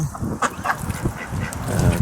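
Ducks and chickens on a poultry allotment in December, with repeated honking, quacking calls scattered across the stretch and a steady background of birds close by, no talking.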